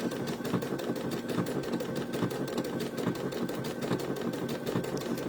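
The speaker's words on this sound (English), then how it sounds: "now we're sewing it on a towel" A sewing machine stitches an appliquéd cow of red buffalo check fabric onto a dish towel, its needle running in a steady, fast, rhythmic patter that continues close and evenly throughout with no voices.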